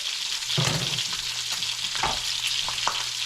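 Sizzling in a skillet as eggs fry alongside hash browns, a steady hiss with scattered crackles and a few soft stirring or scraping touches, close and moderately loud with no voices.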